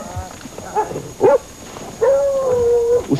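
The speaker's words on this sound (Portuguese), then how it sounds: "Olha lá, os cachorros estão atrás dele." Hunting dogs in the Pantanal barking and howling after killing a peccary (wild boar) in the brush, with short yelps followed by a long drawn-out howl, moderately near, over faint outdoor background.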